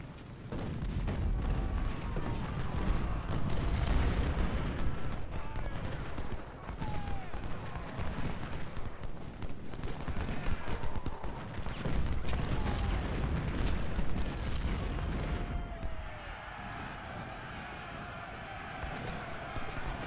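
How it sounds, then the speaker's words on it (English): Cannon and battle fire from the Civil War strategy game Ultimate General: Civil War, a dense, continuous rumble of distant booms and shots running throughout, with someone talking over it. "Yeah, I've just seen cannon fire."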